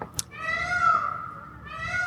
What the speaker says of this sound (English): That is the sound of battling male peacocks.